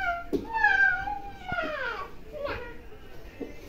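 A cat meows several times in a row close by, high drawn-out calls with short gaps between them, in a domestic morning setting.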